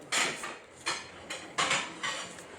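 Ceramic plates clatter and clink in several separate bursts as they are set down and handled nearby, each bright knock trailing off before the next.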